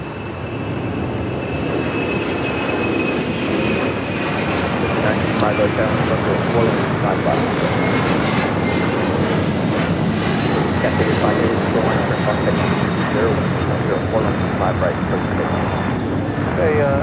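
Boeing 777-300ER jet taking off from runway 24 left at LAX, a loud, steady broadband roar with a thin whine sliding over it throughout, while a voice talks over the noise.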